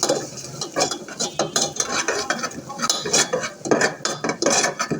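Semolina frying in soybean oil in a pot, stirred with a utensil: repeated close scraping and clinking against the pot in an uneven rhythm, with no talk.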